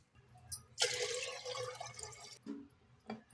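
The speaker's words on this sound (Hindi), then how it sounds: "इसे हम नीम गर्म पानी से फुल भर देंगे 2 से 3 घंटे के लिए।" Lukewarm water is poured to fill a clay cooking pot before first use, a continuous splashing, gurgling pour for over a second, then a few drips in a quiet room.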